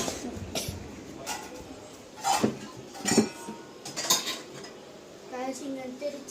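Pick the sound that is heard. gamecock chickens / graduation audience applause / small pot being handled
small pot being handled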